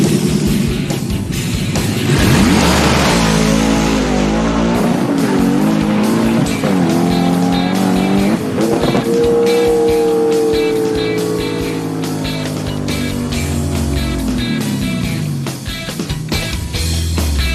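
A hot rod drag car makes a full eighth-mile pass down a drag strip, its loud engine roaring and climbing in pitch through several smooth gear changes before the sound slowly fades into the distance.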